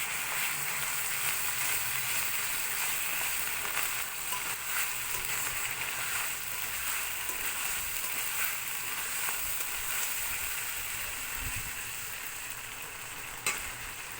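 Ground spice paste for chicken frying in oil in a pan, a continuous soft sizzle and crackle with faint stirring, steady throughout and easing slightly near the end, no talking.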